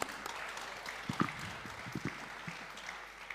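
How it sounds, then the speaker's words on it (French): An audience at a round-table discussion applauds steadily, a crowd of hands clapping at a distance, fairly faint and continuous. "Merci beaucoup Edith Voisin, on vous applaudit."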